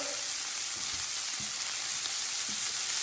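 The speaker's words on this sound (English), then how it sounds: "now we want to butter baste. So first thing we do, we add in some butter" Butter hisses and sizzles steadily in a very hot pan as lamb chops are butter basted, a dense close-up frying crackle with faint stirring movements throughout.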